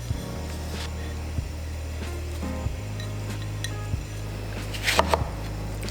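Repeated scraping and clinking of a spoon stirring a vegetarian stew with white kidney beans in a pot, several distinct knocks against the pot over a low steady hum, with a brief flurry of clinks near the end and no talking.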